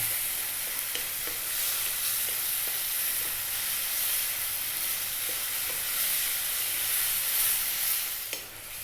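A blended tomato curry base cooking down in a pan over medium heat, a continuous close sizzle and hiss with faint occasional stirring, no voices.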